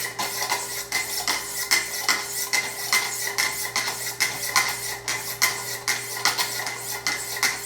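Knife blade stroked against 600-grit stones on a Wicked Edge sharpener, a steady run of short, bright scraping strokes in regular rhythm, close and fairly clear with no talk.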